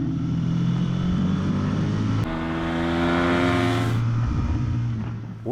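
A 2017 Suzuki V-Strom 650 motorcycle engine runs on a mountain road in Romania, loud and close with a steady drone that shifts pitch, rising, settling, then rising again, with no talk.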